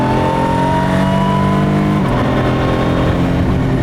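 A Ford GT Mk IV supercar with an 800bhp engine accelerates hard, its loud, close engine tone climbing steadily, then briefly dipping at a gear change before pulling on.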